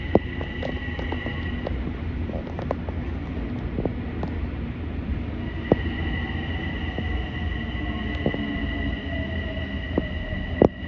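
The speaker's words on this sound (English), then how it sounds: "Here's the original train version." A Kawasaki M8 electric train on the Harlem Line rumbles past in a steady low drone, with faint clanks and squeaks rising at intervals from the wheels and cars.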